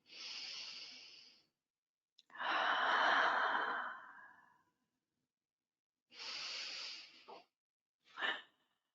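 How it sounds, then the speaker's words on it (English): Slow, deep breaths during a gentle vinyasa yoga flow for tight hips: long audible inhales and exhales, airy and close, with quiet gaps between them and a short final breath. "And just taking some time here to consciously lengthen the breath"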